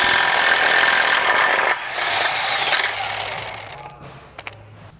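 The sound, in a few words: removing the axle nut on a Saab 9-5 hub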